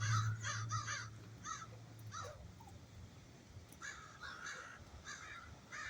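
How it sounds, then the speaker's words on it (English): Crows caw in short repeated bursts of two to four calls, moderately distant and fairly faint, with quiet outdoor ambience and a low hum between calls. "But a lot of it is crows."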